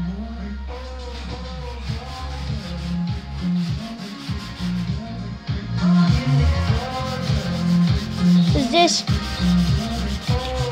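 Hand sanding with sandpaper makes repeated rhythmic rasping strokes, close and loud, speeding up in the second half, with tonal sounds in the background and a brief spoken word.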